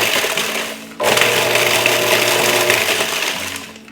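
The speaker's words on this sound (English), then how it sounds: "just give it a quick head start in the food processor" Bacon for a bourbon cheese ball gets chopped in a food processor: a short loud whirring grind with rattling chunks starts after a brief pause, runs steadily for a few seconds, then winds down near the end, close up.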